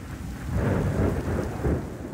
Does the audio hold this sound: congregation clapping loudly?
no